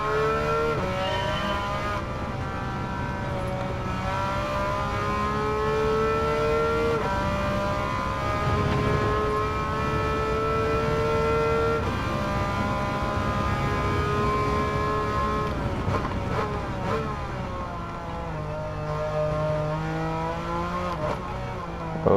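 A Porsche 911 engine in Gran Turismo 7, running on soft tires, drones and revs continuously with steady harmonic tones that rise and fall as the throttle changes, loud and close, with no speech over it.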